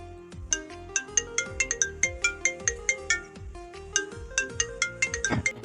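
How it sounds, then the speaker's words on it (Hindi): A phone ringtone plays a bright, repeating melodic pattern of plucked tones, close and alone, with a steady beat throughout. "जॉब सर का फोन"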